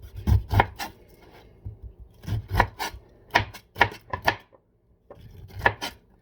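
A sharp knife chops through pineapple on a cutting board in quick bursts of crisp, woody thuds, several rapid strikes grouped with short pauses between them, close and clear with no talking.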